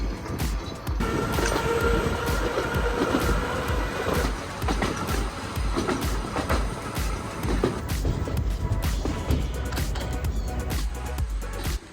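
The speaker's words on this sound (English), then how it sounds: "the trams were purpose-built for the Seaton Tramway" A purpose-built tram on the Seaton Tramway in Devon, running along a former railway branch line, gives a continuous rumbling ride noise with repeated rail clicks and rattles, close and steady throughout.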